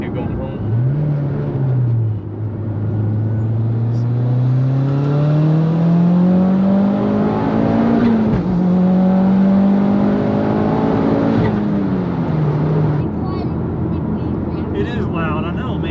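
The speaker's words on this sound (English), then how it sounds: "You know, it's got that loud exhaust, so it sounds cool." A Mitsubishi Evo X with a loud aftermarket exhaust drives and revs, a steady droning roar rising and falling in pitch as it accelerates, heard from inside the car under ongoing conversation.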